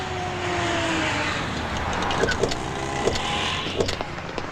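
A car engine drones steadily and fairly close as the car slows and pulls up, with a few light clicks and knocks near the end.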